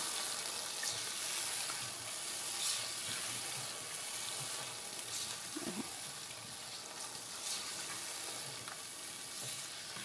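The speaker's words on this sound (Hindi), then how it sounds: "और अब मसाले के साथ हम इसको अच्छे से हम भूनेंगे" Pulao masala spices roasting with beef in a pot for Hyderabadi yakhni pulao, giving a steady, dense sizzle that holds evenly throughout with faint occasional stirring underneath.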